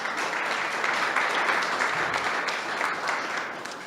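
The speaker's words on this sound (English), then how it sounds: "Another round of applause for all of our speakers." Steady, dense audience applause fills the room after talks at a functional programming meetup, holding at an even level for several seconds with no voices standing out.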